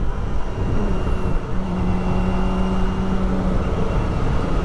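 A Kawasaki ZX25R motorcycle engine runs close and loud, a dense, steady droning whine with a slight rise in pitch midway, alone with no voices.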